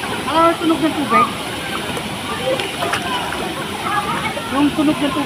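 Water rushes at Bunga Falls in Nagcarlan, Laguna, a steady broad roar throughout, with people talking over it at close range.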